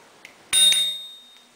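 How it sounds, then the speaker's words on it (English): A small bell on a new 18-gear dual-suspension bicycle rings once with a bright metallic ding that fades away gradually in a quiet setting. "Got me a little bell here."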